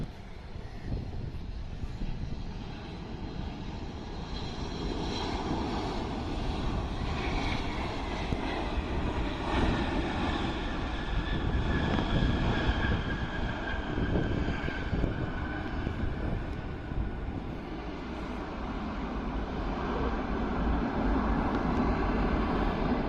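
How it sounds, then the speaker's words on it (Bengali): A YTO Cargo Airlines Boeing 767 arriving from Guangzhou on approach to land at Dhaka's Hazrat Shahjalal airport, its engine roar steady and loud for the whole stretch, with wind buffeting the microphone. "এই বিমানটি চীনের গুয়াংজু থেকে ঢাকায় অবতরণের জন্য এগিয়ে আসছে"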